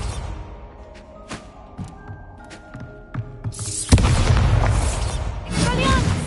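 A Bombarda blasting spell in the wizarding game Hogwarts Legacy lands as a sudden loud explosive boom. Quieter clicks and thuds come before it, and a rumbling, crackling tail follows.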